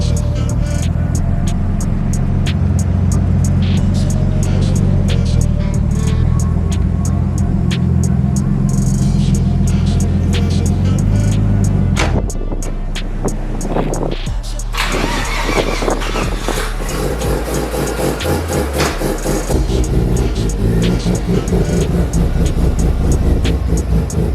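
A Mazda RX-7 FD pulls out of a garage with a loud, close engine rumble that holds steady, then shifts pitch midway as it moves and revs lightly.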